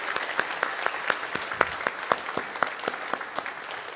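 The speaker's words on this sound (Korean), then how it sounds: "우리 잠깐 일어서시면 또 박수로 환영하도록 하겠습니다" A church congregation at a Sunday worship service welcomes a visiting pastor with applause, a steady, fairly quiet patter of many hands with sharper individual claps standing out, continuing evenly for about four seconds.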